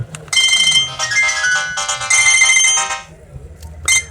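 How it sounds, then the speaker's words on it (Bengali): An itel it2181 keypad mobile phone plays its ringtone loudly and close by, a bright electronic melody in bursts with brief pauses between phrases. "চলুন দেখা যাক ফোনটির রিংটোনের যে সাউন্ড এটা ভলিউমটা কত ছিল"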